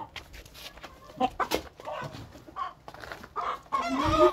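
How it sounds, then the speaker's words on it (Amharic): A chicken clucks in a few quick, close bursts over rustling movement, with the sounds growing louder and busier toward the end. "እዚህ ጋር ሌላም ዶሮ አለ ተቀላቅሏል።"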